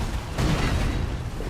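A loud, close explosion in Elden Ring, a broad rumbling burst that swells sharply and then lingers as a dense roar to the end, with no voices over it.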